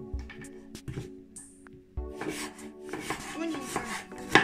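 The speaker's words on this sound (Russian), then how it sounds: "Теперь я нарезаю полукольцами лук." A knife cuts an onion into thin half rings on a cutting board while preparing Korean-style beef salad, a string of quick close chops over low kitchen background noise.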